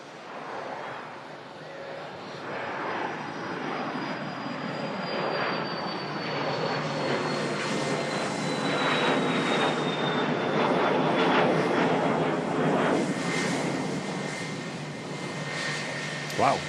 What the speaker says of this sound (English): Wow, fast taxi as well from the Lufthansa